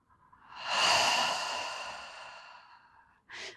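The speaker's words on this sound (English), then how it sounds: "Deep breath out through your mouth." A long, deep breath pushed out through the mouth during a vinyasa yoga session, swelling quickly and then fading slowly over about three seconds, with a short second puff of breath right after.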